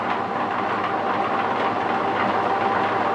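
A metal lathe's chain clatters steadily during Whitworth screw cutting, a continuous, close, rattling mechanical din that holds an even level from start to finish.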